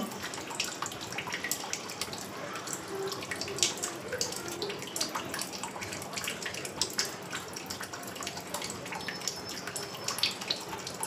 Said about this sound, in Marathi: उकळतं पाणी बघा तुम्ही